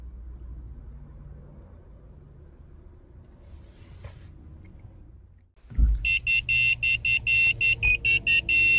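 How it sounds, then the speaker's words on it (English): A key chip programming tool for a 2005-2007 Ford Five Hundred key fob sounds a rapid train of about ten loud, evenly spaced electronic beeps, coming in abruptly after a quiet stretch of low background hum. "After 10 minutes, you'll hear a beeping tone, which means that the key chip programming was successful."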